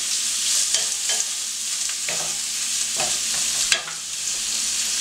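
Shrimp sizzling in a pan over medium heat with ginger, a loud, steady frying hiss punctuated by a few sharp utensil scrapes and taps, close up with no talking.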